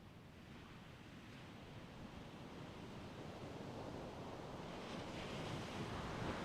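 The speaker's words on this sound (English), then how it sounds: "Some swell is rolling through." Surf rolls in from the ocean at a competition beach, a broad wash of wave noise mixed with wind rumble, gradually swelling louder over the span.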